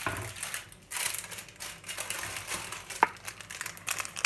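Crisp crinkling and crunching of parchment paper as a banana roll cake is flipped over on it, steady and close, with a sharper crackle partway through.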